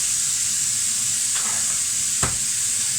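Roasted mixed vegetables, beef and beans sizzle with a constant hiss in a hot pan. A couple of quick scraping stirs cut through, the second sharper and louder.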